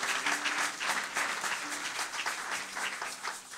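A church congregation applauding, steady dense clapping from many hands spread through the room, moderately distant and sustained throughout.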